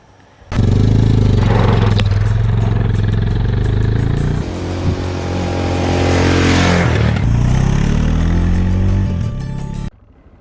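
A stock 2007 Suzuki DR650 single-cylinder dual-sport motorcycle runs loud and close, its engine revving and pulling through gears with a dip midway, then building again before cutting off abruptly near the end.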